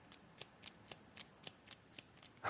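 A Uni Kuru Toga Dive mechanical pencil mechanism churning in a quiet room, a faint, even series of about nine soft scratchy clicks spaced roughly a quarter second apart.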